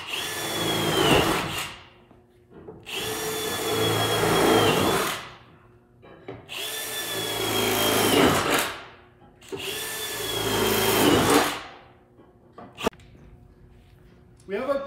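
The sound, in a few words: power drill drilling holes in truck floor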